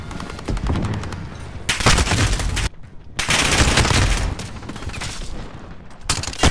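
Dense bursts of automatic gunfire from Call of Duty Modern Warfare, loud and close, with rapid overlapping shots broken by two short silent gaps before the firing resumes.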